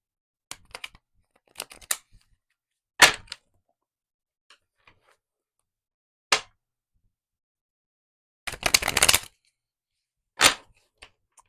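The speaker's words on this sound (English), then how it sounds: "Page of Pentacles, Wheel of Fortune, but I'm being guided to shuffle." Tarot cards being shuffled and riffled in short, sharp bursts separated by silence, close by, with no talking.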